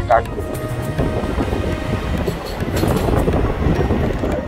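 A Namkhana local train from Sealdah runs along with a continuous loud rumble and rattle, and wind buffets the microphone steadily throughout.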